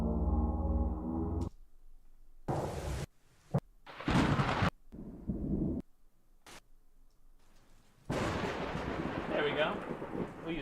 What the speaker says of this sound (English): A little bit of thunder in there.